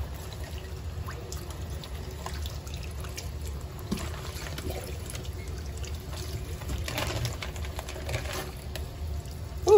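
Water runs and trickles steadily as freshly cleaned bone fish are rinsed off before frying, a soft continuous flow close by with no talking.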